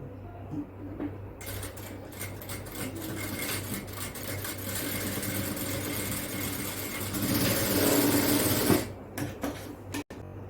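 An electric sewing machine stitches a cross piece around the neckline of a child's frock-style night dress, a steady mechanical whir running for several seconds at moderate level, with a few short stops and clicks near the end.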